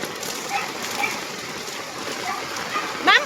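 Rain falling outdoors during typhoon Crising, a continuous moderate wash of drops and splatter close by, fairly even with a brief louder burst near the end.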